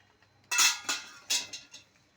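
A plate is set down over prawn malai curry on a banana leaf, giving a few close, light clinks and knocks, one sharper first contact followed by softer settling taps.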